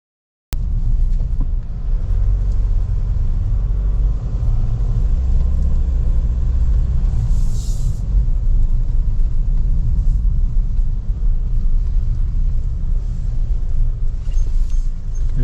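Cabin of a 2022 Nissan Terra VL 4x4 on the road: a loud, continuous low rumble of road and engine noise from start to finish, with no talking.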